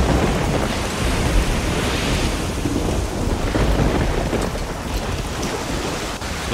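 Heavy rain pours steadily during a video game thunderstorm, with rolling thunder rumbling underneath in a dense, continuous wash of loud storm noise.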